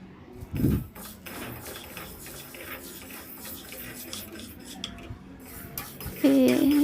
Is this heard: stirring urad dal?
yes